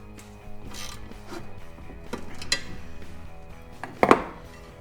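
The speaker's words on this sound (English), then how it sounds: "I'm going to torque it to a very precise specification of tight" Hand-tightening bolts on a Suzuki DR650 skid plate with no torque wrench: a run of clicking, clanking metal tool noises with a few sharp knocks near the end, close by with no voices.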